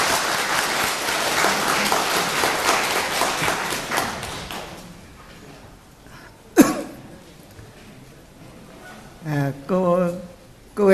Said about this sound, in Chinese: 大家掌声有请。